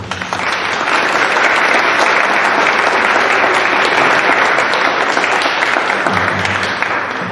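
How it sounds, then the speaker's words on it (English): A town hall audience gives the panelists a sustained round of applause, with dense, loud clapping from a large crowd that holds steady for several seconds. "let's give our panelists a round of applause."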